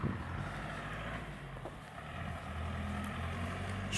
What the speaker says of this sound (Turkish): Şu ileriden giden minibüsün sesini bayağı yüksekten işitirdim şimdi.